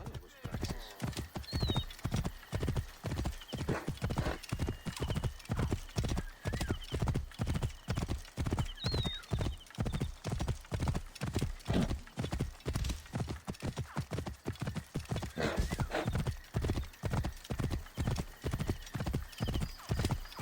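Fast, regular hoofbeats pound continuously as a horse gallops in the video game Assassin's Creed Origins, with a couple of short whinnies breaking through the steady drumming.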